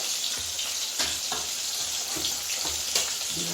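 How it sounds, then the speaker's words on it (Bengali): Fish deep-frying in a pan of oil gives a steady, close hiss and sizzle with small crackling pops throughout. "একদম ডুবো তেলেই ভাজবো, যাতে সব পুরো সব জায়গাটা তেল লাগে"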